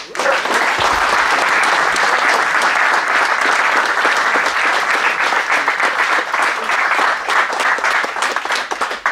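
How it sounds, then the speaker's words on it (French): A crowd at a union New Year's gathering gives a loud, sustained burst of applause for the demonstration organisers, with dense, continuous clapping filling the room from start to finish. "Je vous demande un tonnerre d'applaudissements."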